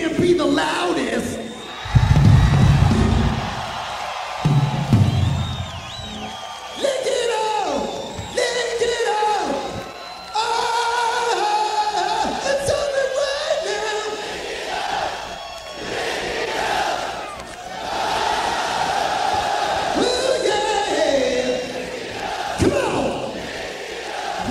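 A small concert crowd sings along and cheers at a live show, loud and sustained throughout with bursts of whoops and yells, many voices blending into a continuous roar.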